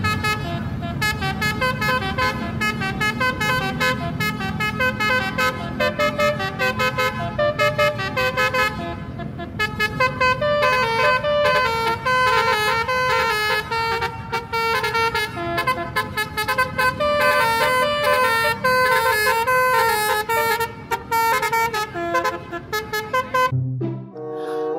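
Tunggal Jaya tourist bus sounding a loud melodic horn, a long sequence of rapid tuneful tones playing continuously up close, cutting off at the end.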